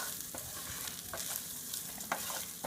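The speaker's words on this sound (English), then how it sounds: "You want to fry it until your rice is pretty much toasted." Rice for Mexican rice fries in a pan and is stirred constantly as it toasts, a soft steady sizzle broken by light scraping strokes, close and fairly quiet.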